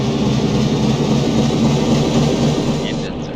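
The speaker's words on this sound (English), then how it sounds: "Engines are loud." Submarine engines drone in the UBOAT game: a loud, continuous low rumble with a dense mechanical hum that stays steady throughout and eases slightly at the end.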